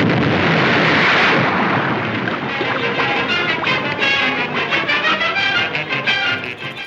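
A big explosion on a makeshift raft in an old film serial: a loud roaring blast that holds dense and rumbling for several seconds, then breaks into crackling debris and slowly thins out.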